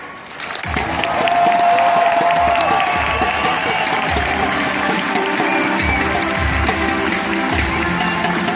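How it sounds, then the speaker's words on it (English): An arena crowd at the Intel Extreme Masters esports tournament in Katowice 2016 breaks into loud, sustained applause and cheering for the team, a dense roar with an announcer's voice carried over it. "Ladies and gentlemen, give them a hand."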